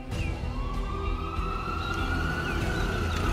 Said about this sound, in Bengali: মুহূর্তেই অ্যাম্বুলেন্সটা শব্দ করে চলে গেল